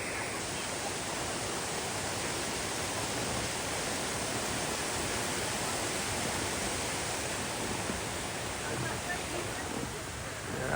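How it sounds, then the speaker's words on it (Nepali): A waterfall beside a hiking trail in Canada gives a loud, steady, unbroken rush of falling water for the whole stretch, close by and never letting up. "यो चाहिँ अर्को झरना भइहाल्यो"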